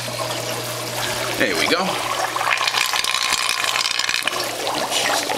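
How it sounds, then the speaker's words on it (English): An Aqualifter pump on an aquarium overflow system pushes water and air, giving loud gurgling, trickling and sputtering close by, while someone speaks briefly. "It would help probably if now I reconnected the Aqualifter pump."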